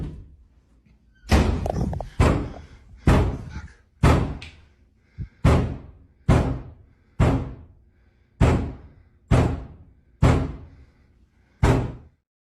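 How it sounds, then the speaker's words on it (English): Doors bang loudly inside rooms of a house, about a dozen heavy slams at roughly one-second intervals, each sharp hit decaying quickly before the next. "doors start banging loudly in the rooms"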